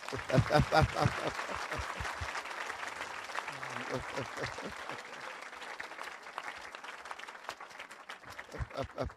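A church congregation claps in praise of the Lord, sustained dense applause from a crowd filling the room while a voice speaks over it.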